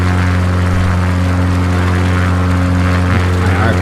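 Steady propeller-plane engine drone from Microsoft Flight Simulator 2020, a loud continuous hum with strong tonal harmonics that holds evenly throughout, no voices.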